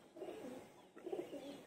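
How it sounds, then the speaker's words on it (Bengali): Homing pigeons cooing nearby as they take off and fly, soft low throaty coos in two short bursts with a brief pause between them. "এই যে আমার নর কবুতর গুলো উঠতেছে,"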